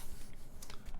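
Keys on a Finder Works Hyphen prototype keyboard, typed hard enough to bottom out, give a few faint, quick clicks over a low background hum.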